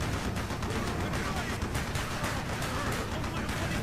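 Dense rapid rifle gunfire from a Call of Duty: Black Ops match, a continuous loud burst of shots packed together with no breaks across the whole stretch.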